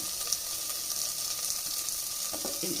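Onions, green chilies and ginger-garlic paste sauté in a pan with a steady, even sizzle throughout, plus a brief clatter of stirring near the end.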